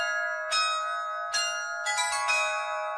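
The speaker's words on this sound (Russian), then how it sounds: "мы звоним в колокола." Church bells ring at the Church of the Protection of the Holy Mother of God in Belarus. Four clear strikes land in an uneven rhythm over a sustained, ringing metallic tone that carries between them.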